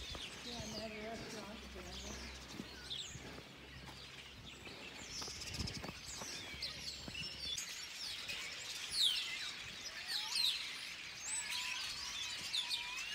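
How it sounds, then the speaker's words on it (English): A large flock of birds chirps densely from a tree in a Spanish town on the Camino Francés, a busy high twittering that builds over distant street noise, with brief talk and footsteps early on. "Just an army of birds."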